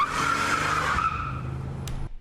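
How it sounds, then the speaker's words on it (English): A car peels away in a tire-skid sound effect for a car chase scene: a loud, sustained rubber squeal over engine roar that fades out after about two seconds. "The sound here, car peels off"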